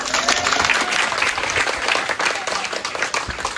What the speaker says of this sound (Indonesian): Selamat dulu tepuk tangan teman-teman.